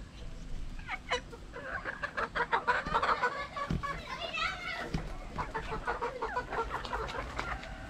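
Chickens and roosters cluck and call repeatedly at a chicken farm, close and busy, with people talking among the birds.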